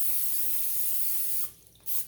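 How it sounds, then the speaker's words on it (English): Cooking spray hissing from a can onto a 9-inch pie plate, a close continuous spray lasting over a second, then a short pause and a second quick burst. "I'm going to go ahead and spray my pan down."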